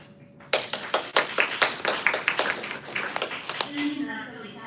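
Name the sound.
applause welcoming a speaker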